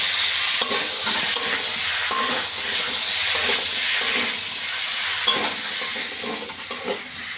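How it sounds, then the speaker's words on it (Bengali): Ground cumin and coriander paste fries with vegetables and paneer in a pan during village-style cooking, a loud continuous sizzle with scraping stir strokes and occasional sharp clicks of the spatula. "মশলাটা সবজির সঙ্গে ভালো করে কষে নেব।"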